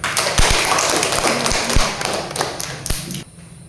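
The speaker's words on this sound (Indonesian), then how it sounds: "Mari kita tepuk tangan untuk." A classroom of students claps hands together for a presentation, a dense, steady patter of many hands broken by a few louder thumping taps, then fading out near the end.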